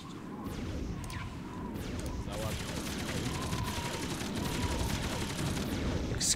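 Rapid gunfire rattles through a battle in the strategy game Earth 2160, a dense continuous volley of shots and bursts over a steady rumbling backdrop, moderately loud with no pauses.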